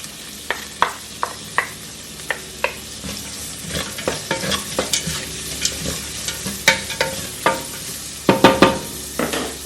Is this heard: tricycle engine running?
no